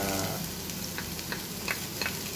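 Onions sizzling in a pan for Coca-Cola adobo give a steady hissing fry, dotted with small crackles and pops, with a low hum fading early and no talking.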